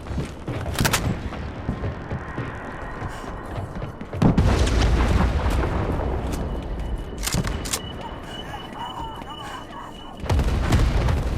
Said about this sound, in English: we have reports of plasma bombardment in the region